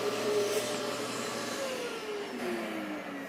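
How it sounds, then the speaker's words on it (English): A vacuum cleaner runs in a workshop cleaning up after woodworking, a loud steady motor roar with a whining tone that dips in pitch as the nozzle moves, heard alone. "Always vacuum up when you're done."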